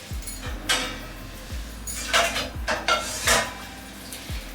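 Metal lid and pot clank and clink over a pot of Bengali-style pomfret fish curry, with several sharp knocks spread across the moment and a low steady hum beneath, close and fairly loud, no talking.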